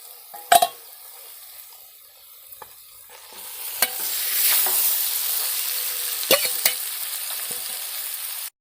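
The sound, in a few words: marinated mutton added to hot oil in a kadai, sizzling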